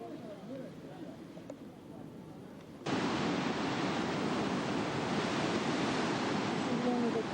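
A waterfall pours through a glacier cave in the Canadian Rockies, heard as a steady broadband roar that jumps abruptly louder partway through and then holds constant.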